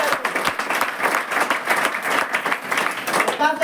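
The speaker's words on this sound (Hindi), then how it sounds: "जोरदार ताली होनी चाहिए।" Indoor audience breaks into loud, sustained applause at a gathering, many hands clapping densely and steadily close to the microphone throughout.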